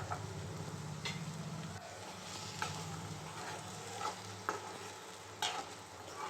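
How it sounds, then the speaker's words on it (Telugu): Tomato paste frying over sautéed onions in a pan while being stirred, a soft continuous sizzle with occasional light scraping strokes, close and quiet with no voices. "ఇప్పుడు దీంట్లోకి మనము వన్ బౌల్ టమాటా పేస్ట్ వేద్దాము వన్ కప్ టమాటా పేస్ట్"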